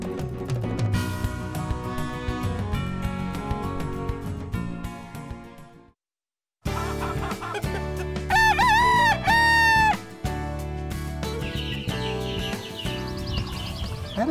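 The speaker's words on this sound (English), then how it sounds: "discuss a breed of chicken that's known as a great egg producer. It's called the New Hampshire Red." On an organic poultry farm, a rooster crows loudly and close for a couple of seconds over a busy, music-like bed of sound, with clucking around it.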